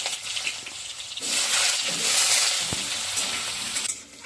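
Potatoes drop into hot oil with a tempering of bay leaves, dried chillies and cumin. A moderate sizzle suddenly swells into a loud, bright hiss and holds there.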